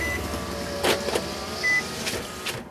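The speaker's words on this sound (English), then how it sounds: "I need to let my windows up, a lot of noise out here." Power windows on a parked car whir up in two short motor bursts, faint and close, over a quiet background hum with no talking.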